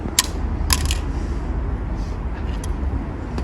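A graphics card dropped during a drop test hits a hard surface with sharp metallic clatters, two distinct impacts near the start and smaller rattles later, over steady low background rumble.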